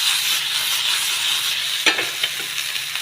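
Okra frying in a pan and stirred with a spoon, giving a steady close sizzle with a few scraping strokes near the end and no talk.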